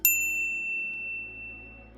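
A notification bell dings once, sharp and bright at the start, then rings out in a long fading shimmer with a soft low hum underneath.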